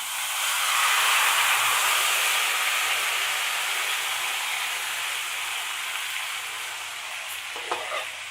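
Marinated mutton poured into hot oil with whole garam masala and bay leaves, erupting into a loud, dense frying sizzle that hisses steadily and slowly eases, ending with a few clinks of a utensil.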